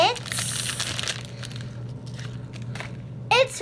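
Crinkly plastic packaging of a LOL Surprise BFF Sweethearts doll is unwrapped, making loud rustling and crumpling in bursts at the start and the end. Voices can be heard faintly under it.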